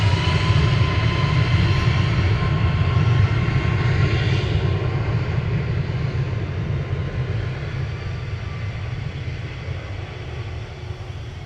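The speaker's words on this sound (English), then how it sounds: "Next to go is going to be Ryanair to Prague, a Max 8 200 with flight 6838." Ryanair Boeing 737 MAX 8-200 departing Manchester Airport for Prague, heard as a loud, sustained engine roar with a deep rumble that fades gradually as the aircraft moves away, with no talk.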